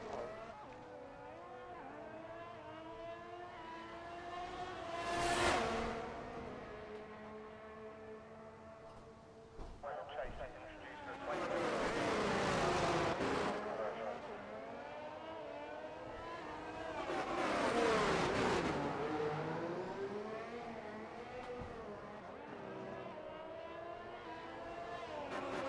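F1 23 race car on its outlap at the Azerbaijan circuit, a game engine rising and falling in long revving sweeps with several loud surges, heard fairly distant and steady.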